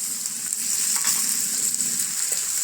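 Onions frying in a pan with tomatoes being added for spiced black chickpea masala, a steady, close, hissing sizzle running throughout with faint stirring scrapes and no talk.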